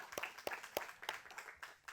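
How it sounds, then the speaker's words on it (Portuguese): Applause from an audience at a campus celebration event, a run of individual claps in an uneven rhythm, somewhat distant and fairly quiet. "Uma salva de palmas para as mulheres."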